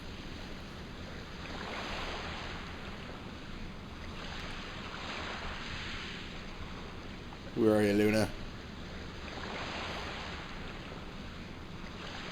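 Ocean waves wash steadily around a boat at sea in the video game Lunar, a soft continuous surf with wind noise, broken once by a short spoken line.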